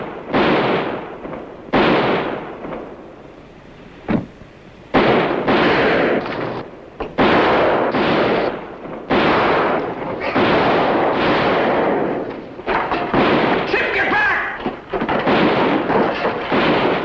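An armed posse fires on a riverboat with a rapid series of loud, sharp gunshots in irregular volleys, some in quick clusters and others spaced apart, with no talk over them.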